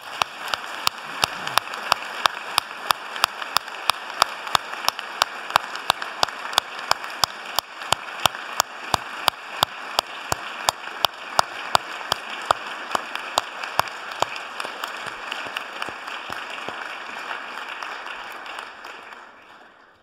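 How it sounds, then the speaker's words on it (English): Audience applause at a school prizegiving at Downside, a long burst of dense, steady clapping from a large crowd. It carries on for about twenty seconds with no talk, then fades at the end. "I'd like to give all of those a round of applause,"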